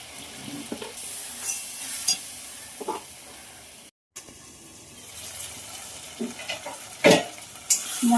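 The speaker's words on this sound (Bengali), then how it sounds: "মশলাটা ভাজা ভাজা হয়ে গেছে" Spice paste with tomato, salt and turmeric frying in a pan for a rohu fish curry with potato and aubergine, giving a soft steady sizzle broken by intermittent stirring scrapes, close and moderately quiet.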